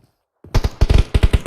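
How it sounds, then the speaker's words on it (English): Gunfire in BGMI during a mobile esports championship semi-final: after a brief silence, several rapid bursts of automatic weapon fire crack out loud and close. "Plenty shots coming in. Here comes the gun and fireworks."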